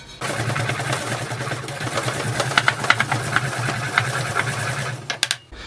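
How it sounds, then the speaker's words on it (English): Continuous gritty scraping and rhythmic grinding, like a pestle working spices in a mortar, fairly close with occasional sharper clicks. "So I'm now going to put this in my pestle and mortar."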